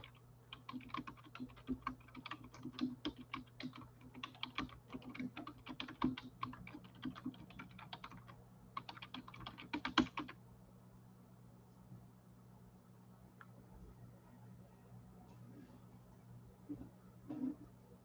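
Rapid clattering keystrokes on a computer keyboard for about ten seconds, close and fairly quiet over a low steady hum, then stopping with only a few faint taps afterward.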